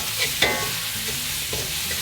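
Beef sizzles and crackles in a hot wok over high heat for Sichuan dry-fried beef, a dense steady frying hiss with a few sharp spatula scrapes, close up and without voices.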